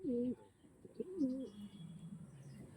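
Pigeons of a single tournament-quality bloodline, boat-bodied birds, coo in a few low throaty calls near at hand, with a faint chirp and soft rustling between them.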